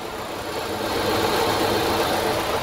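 A warm Toyota Corolla engine idles steadily and fairly loud, a constant mid-pitched hum with slight vibration and no talking.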